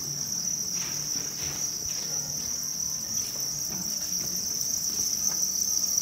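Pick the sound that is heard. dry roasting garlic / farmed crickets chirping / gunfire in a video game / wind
farmed crickets chirping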